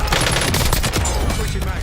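Video game gunfire during target practice, a loud, continuous automatic burst of rapid shots up close, with a voice faintly underneath.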